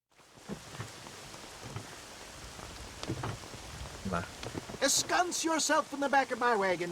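Steady rain hisses across the whole stretch in the Red Dead Redemption game, rising a little in level, with a voice talking over it toward the end.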